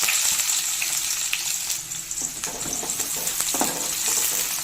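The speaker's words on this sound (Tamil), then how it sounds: "ஒரு சின்ன துண்டு பட்டை, ஒரு ஏலை, 2 கிராம்பு அதை போட்டுக்கலாம். அது நல்லா பொரிய விட்டு" Whole spices (cinnamon stick, cardamom pod and cloves) with chopped onion fry in hot oil, giving a steady close crackling sizzle with occasional sharper pops and the clink of stirring throughout.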